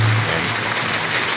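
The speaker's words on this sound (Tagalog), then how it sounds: "Okay, medyo humina na yung ulan, no?" Heavy rain gives a dense, loud, steady hiss of drops hitting surfaces, continuous throughout with no pause.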